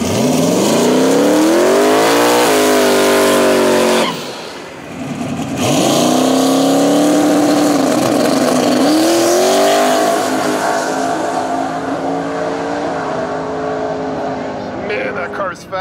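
Loud drag racing car 'Tangerine Dream' with a 632 big block engine roaring through a solo bye run at a no-prep street event, rising harmonic engine note sweeping up through gear changes, a brief lift, then sustained wide-open pull as it fades, with announcer talk over it.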